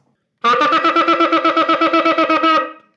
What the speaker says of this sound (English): the Trua, the 9 broken, very short blasts, is 9 very short sounds